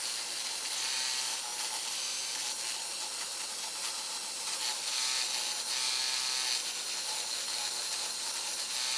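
A rotary tool polishes the chrome on a Singer 66 RedEye sewing machine, producing a close, continuous high whirring hiss that swells and eases slightly as it works, with no voices.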